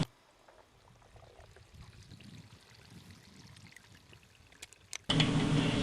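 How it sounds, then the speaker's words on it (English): Fuel trickles faintly and steadily into the fuel tank of a Wick100G fire pump for several seconds, then a sudden loud, broad rush of noise takes over. "Here we're extracting the fuel directly into the pump's fuel tank to avoid any spillage."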